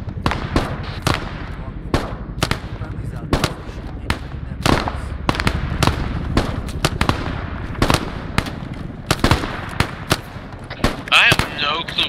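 Gunfire in a night battle for 881 North, sharp rifle shots cracking in irregular bursts and single reports, some close and loud, others farther off, with voices shouting faintly underneath.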